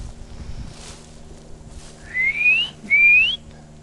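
Two rising whistled notes, clear and fairly close, sound one after the other over quiet outdoor background with faint wind; the source may be a wild bird or a person imitating one.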